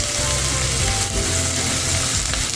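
Beef frying in a pan for a Mongolian dish makes a loud, dense, continuous sizzle right up close, with a low rumble beneath and no pauses.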